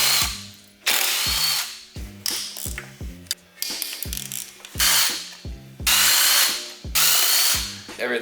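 Ratchet tools click in quick bursts while a Nissan SR20 engine is stripped down, loud close ratcheting runs separated by short pauses and heavier tool hits.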